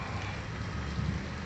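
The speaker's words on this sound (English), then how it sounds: "Greetings from the Buckeye State where it's raining." Fairly heavy rain falls steadily in Ohio, a continuous dense hiss of drops on surfaces with a low rumble beneath, even and unbroken throughout.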